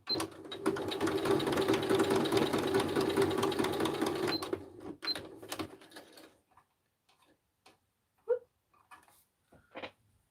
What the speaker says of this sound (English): I'm going to sew that in place, I think.